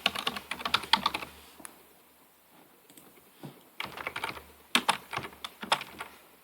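Close, quiet computer keyboard typing while registration details are entered, arriving as bursts of rapid clicking separated by a short pause and ending with a second flurry of keystrokes.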